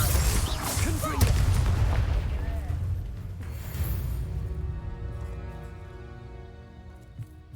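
Fiery Confringo spell blast in Hogwarts Legacy, a booming burst with a heavy low rumble that fades into a ringing, reverberant tail, with a voice talking over it.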